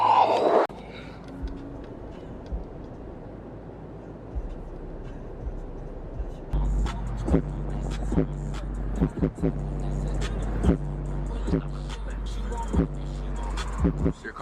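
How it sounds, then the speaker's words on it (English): A loud car rumbles close by with a low engine roar that swells after a quieter opening, and voices talk briefly over it. "Your car's too loud."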